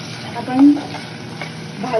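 Already-cooked vegetables are tossed briefly in a hot pan, giving a soft steady sizzle with faint stirring scrapes and a short voice-like sound under it.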